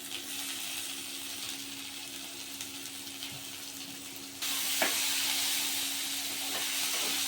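Tomatoes roast in a pan for an egg kheema curry, giving a steady broadband hiss and sizzle that jumps louder partway through, with a few faint clicks and clinks, no voices.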